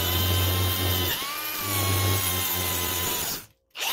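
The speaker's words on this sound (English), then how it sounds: "we're going to clean these up with a wire wheel real quick" Wire wheel on a power tool cleaning metal ahead of welding during trailer fabrication work, a loud steady whine with a brief dip in pitch, then cutting off abruptly near the end.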